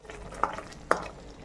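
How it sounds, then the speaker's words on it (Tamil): Crushed ginger and garlic being stirred into a ground paste in a pan for a crab fry, with two soft spoon scrapes against the pan over a quiet, low sizzle. "சேர்த்து எல்லாம் நல்லா வதக்கி விட்டுக்கலாம்."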